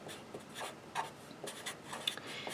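A pen or pencil writing out a math solution, a quiet run of close scratchy strokes and taps in an uneven rhythm.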